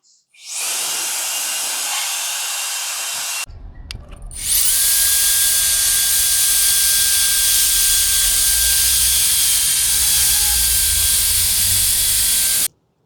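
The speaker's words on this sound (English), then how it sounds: "Hard to reach areas to blow the dust. Speed number 3." A cordless brushless electric air duster spinning up to 110000 RPM blows hard at speed 3, a loud steady jet hiss with a whining tone that cuts off briefly and then restarts louder and holds.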